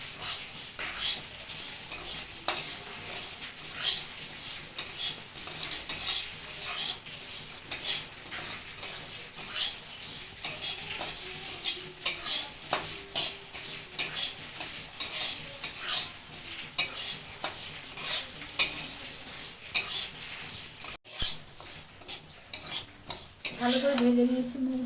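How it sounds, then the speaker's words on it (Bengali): Moong dal frying in a wok, lightly browned while a spatula stirs and scrapes steadily, with a soft continuous sizzle under frequent metallic clinks and scrapes close by, no talking. "এটাকে আমি ভেজে নেব হালকা বাদামি করে।"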